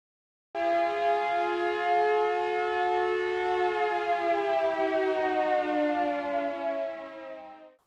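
A loud, sustained time-signal siren of Kannur Corporation wails alone for about seven seconds, holding a steady tone that slowly drops slightly before cutting off.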